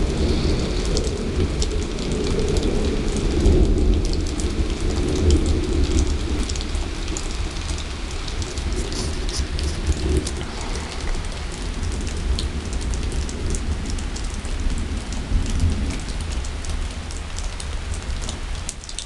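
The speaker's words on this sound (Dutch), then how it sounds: "Onweer." A heavy thunderstorm near Vorden in August: steady, dense rain hissing and pattering on surfaces, with a low rumbling undertone of thunder, continuous and fairly loud throughout, no voices.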